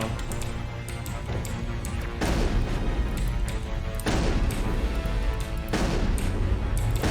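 Gunfire in the Mass Effect video game, sustained bursts of rapid shots crashing continuously through the whole stretch with brief shifts in intensity, loud and dense with no voices.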